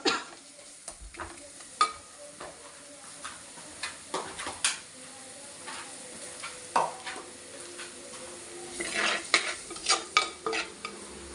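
Tomatoes soften in masala for a Kottayam-style fish curry, with repeated close spoon-on-pan stirring clacks over a quiet sizzle, the scraping strokes coming in irregular bursts.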